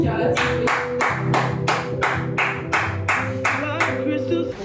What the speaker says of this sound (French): Une minute d'applaudissements pour le baptême de Carla